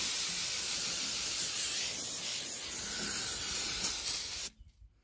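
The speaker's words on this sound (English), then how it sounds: "Brake clean." Aerosol brake cleaner sprayed onto exhaust headers, a steady loud hiss lasting several seconds before cutting off abruptly.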